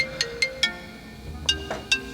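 A phone ringtone plays a short looping electronic melody of bright, evenly spaced chime notes, clear and close, with nothing else over it.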